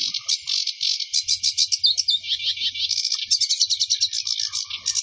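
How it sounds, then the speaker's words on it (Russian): A sedge warbler sings a fast, chattering run of dry trills and rattling notes, close and clear, in the wild tundra of the Nenets nature reserve, with no other voices around. "Так поет один из самых распространенных в наших краях представитель вида воробьинообразных камышовка-барсучок"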